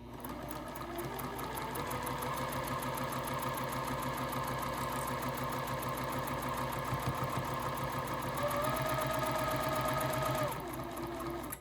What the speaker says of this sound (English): Just lower your presser foot and just take off sewing.